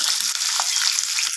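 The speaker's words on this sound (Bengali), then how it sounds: "লবণ আর হলুদটাকে মিশিয়ে নিয়ে আমি ডিমটাকে একটু হালকা করে ভেজে নেব এখানে" Eggs fry in hot oil seasoned with salt and turmeric, giving a steady bright sizzle and crackle with a few small pops, close and fairly loud.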